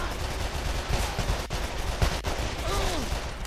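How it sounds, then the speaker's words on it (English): Video game gunfire from Call of Juarez: The Cartel multiplayer plays as dense, continuous battle noise, with a few sharper shot transients standing out against the steady wash of combat sound. "Okay, let's see what I'm shooting at. I'm just cover shooting."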